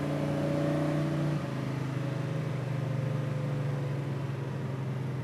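A 1969 Chevrolet Camaro engine drones steadily with rising and shifting tonal hum, as if accelerating through a gear change, heard from inside the car.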